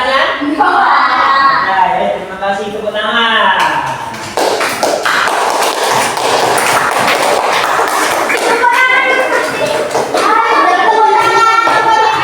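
Primary school class clapping together after a question session, a dense burst of many hands running for several seconds with children's voices and talk around it.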